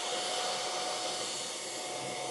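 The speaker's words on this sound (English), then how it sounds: "We're going to huff and puff with the blow dryer, of course." A hair dryer blows with a steady, loud, continuous broadband whoosh that stays constant throughout, with no voices over it.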